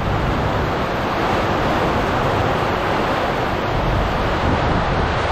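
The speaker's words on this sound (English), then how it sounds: "As long as the winds keep blowing that way, I don't care." Strong storm wind roars continuously and loudly throughout, a dense, steady rushing gust with microphone buffeting and no pauses, during a freak storm that is bringing trees down.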